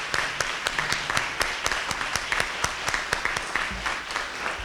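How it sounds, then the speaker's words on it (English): Audience applause in a school district ceremony honouring school-related employees of the year: a steady wash of clapping from a crowd with sharp individual claps standing out, sustained evenly throughout. "Can we give them another round of applause?"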